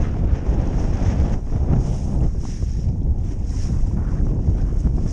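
A boat motor drones while choppy water slaps and sprays against the hull and over the bow in bursts, with heavy wind buffeting the microphone throughout.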